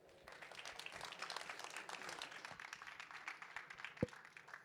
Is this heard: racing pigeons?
no